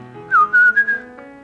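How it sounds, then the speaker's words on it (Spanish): A few short, clear whistled notes, a rising call followed by sustained tones, loud and close against a quiet background. "el silbido con que él nos llamaba"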